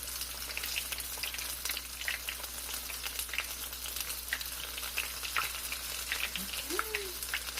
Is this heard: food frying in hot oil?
yes